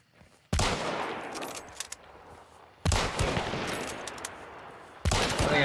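Gunfire in a first-person shooter video game, with three loud, sharp reports a couple of seconds apart, each followed by a long echoing tail and no talk over them.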